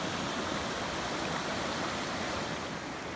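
A rising creek flows near a log cabin in Polk County, Arkansas, a steady, dense rush of water that continues without a break and no voices.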